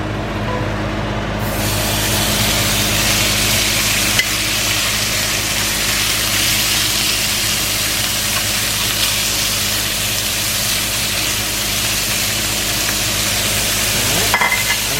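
Meat frying in butter in a pan, first street tacos: a loud, steady, close sizzle that holds unbroken throughout.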